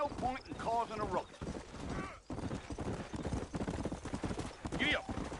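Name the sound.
horse hooves on trail, video game Red Dead Redemption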